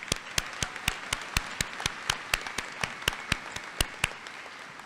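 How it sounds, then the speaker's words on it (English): Audience applause at a 2024 TC3 commencement ceremony: a thin, sparse round of clapping with distinct individual claps standing out in a steady rhythm, fairly near and moderately loud, with no talking over it. "let's give them an applause too."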